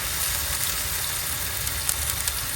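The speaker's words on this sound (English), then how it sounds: "So we'll cook tofu both sides until it's golden brown." Tofu pieces frying in a pan for a stir-fry noodle dish, a steady close sizzle with soft crackling pops throughout and no voices.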